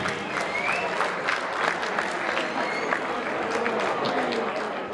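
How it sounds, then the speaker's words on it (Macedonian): Applause from the audience at the Crnobuki anniversary ball in Melbourne, with steady, dense clapping and crowd noise sustained at a near, even loudness throughout. "Ајде ве молам уште еден аплауз за сите учесници во управата на Црновуки"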